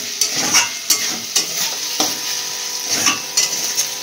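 Meat and spices stir-fried in a pan, a sizzling hiss punctuated by a regular rhythm of spatula scrapes and knocks against the metal, close and fairly loud, with no voices.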